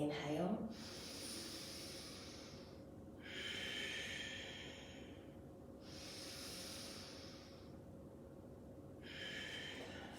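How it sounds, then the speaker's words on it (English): Slow, deliberate breathing during a breathing exercise, four long hissing breaths in and out spaced a couple of seconds apart, close to the microphone over a faint steady hum. "Inhale. Exhale. Inhale. And exhale."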